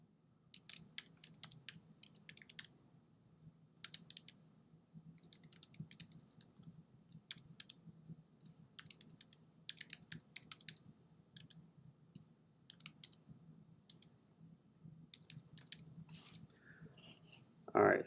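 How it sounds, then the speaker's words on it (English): Fingers tap steadily on a computer keyboard in uneven bursts of crisp keystrokes with short pauses between phrases, close and fairly quiet over a faint low room hum. "So I'm going to go ahead and start typing that in."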